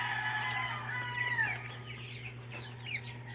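Hens and a rooster in a backyard flock, heard faintly at a distance with a crow-like call and scattered clucks over steady low background hum.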